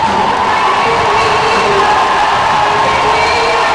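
A loud basketball arena crowd cheers and roars continuously at a North Carolina State vs Clemson college game, a dense sustained wall of voices.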